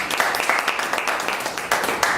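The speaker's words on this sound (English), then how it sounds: "Round of applause." Audience applauding after a T-shirt business pitch presentation, a dense mix of overlapping claps, moderately loud and continuous, with a few sharper individual claps standing out.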